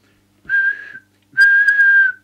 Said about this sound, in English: Quick whistle test.